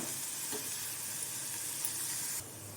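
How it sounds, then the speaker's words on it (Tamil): Onions sautéing toward light golden brown in a pan for egg varuval give off a soft, even sizzle and hiss, faint and continuous, with a slight drop near the end. "இப்போது வெங்காயம் பார்த்தீங்கன்னா நல்லா வதங்கட்டும்"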